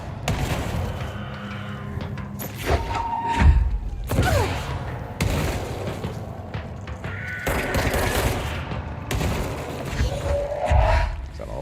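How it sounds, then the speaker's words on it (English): Enemies blowing up in a video game: a string of loud booms and thuds among ongoing combat noise, with broadband blasts recurring every second or two. "Of course, this guy's exploding."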